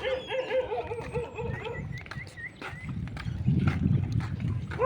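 A dog barks in short yips near a street, mixed with clip-clop hooves and a rough motor rumble from a passing gas-powered bike, all fairly close and continuous.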